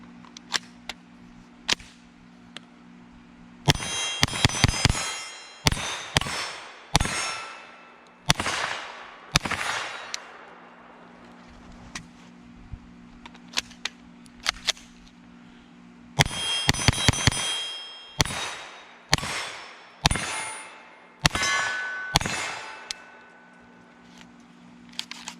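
A Kel Tec Sub2000 Gen 2 9mm carbine fires at steel targets 50 to 60 yards away, with sharp shots and ringing metallic clangs, some single and others in quick clusters, separated by quiet gaps.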